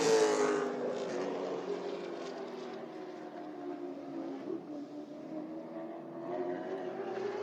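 A stock race car runs a lap at Langley Speedway during a CARS Tour session, its engine a loud, sustained drone that starts close, then fades and wavers slightly as the car moves away around the track.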